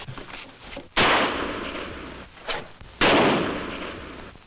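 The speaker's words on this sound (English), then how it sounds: "gunfire. Come from north." Two sharp gunshots in an Old West setting, about two seconds apart, each a sudden loud crack with a long echoing tail that fades slowly, heard on their own without voices.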